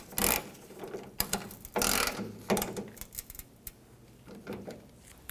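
A hand ratchet tightening a tailgate bolt on a 1997-2003 Ford F-150, several bursts of quick clicking strokes with short pauses between, close and fairly quiet, no talking.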